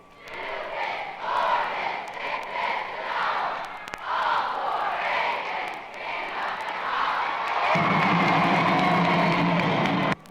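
A large school gym crowd yells and cheers at a 1963 Aiken basketball assembly, a broad roar of many voices rising and swelling into sustained shouting, loud and reverberant.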